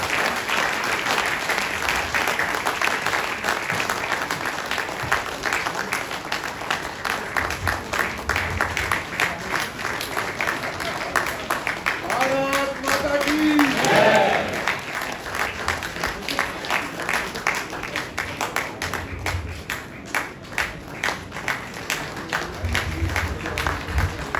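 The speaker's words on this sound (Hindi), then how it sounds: "तालियों की गड़गड़ाहट" Sustained applause from the audience at a foundation day ceremony honouring members, loud and continuous for a long stretch, with faint voices and a brief murmur rising midway.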